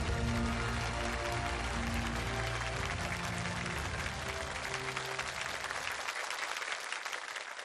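An audience at a CCTV charity award ceremony applauds, a dense sustained clapping that fills the hall and fades slightly near the end, with music under the first part.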